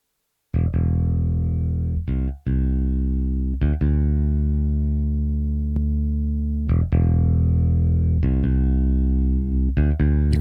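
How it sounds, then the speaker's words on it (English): A sustained, buzzing bass tone distorted by the valve driver of an IK Multimedia Comprexxor rings out alone, thick with harmonics, re-struck a few times with brief gaps between notes. "you can actually hear what the distortion is doing to the incoming audio"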